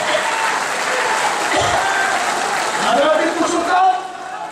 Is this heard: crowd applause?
yes